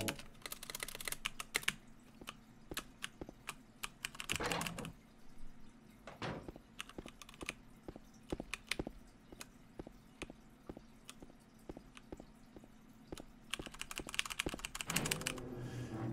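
Steady typing on a computer keyboard during PC play of Silent Hill 2, a continuous run of close, crisp key clicks with a few louder clacks, heard alone without talk.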